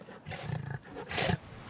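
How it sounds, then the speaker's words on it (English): A big cat, likely a lion, roars in two deep, rumbling bursts, the second louder, heard at a moderate distance with no speech. "Can females roar as loudly as males?"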